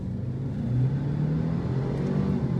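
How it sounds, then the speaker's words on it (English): A Mercedes CLA250 engine drones loudly and steadily as it accelerates through the gears onto a freeway, a deep rumble with no voices. "Okay, so we're in second gear, we're gonna merge onto the freeway."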